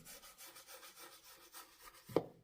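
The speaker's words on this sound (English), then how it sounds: "do you see how I just used the brush in a soft circular motion?" Paintbrush dry brushing paint onto a tissue-decorated surface in soft circular strokes, giving a faint, steady rhythmic rubbing that ends in a small tap, close and quiet.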